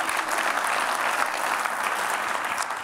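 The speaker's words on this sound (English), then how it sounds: "Yes, feel free to applaud." A conference audience applauds in a dense, steady wash of clapping that fills the whole span evenly, heard from within the hall.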